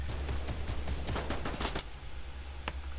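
Fortnite gunfire in a duos match as opponents open fire early, a dense close burst of rapid shots that thins out, with one last sharp crack near the end.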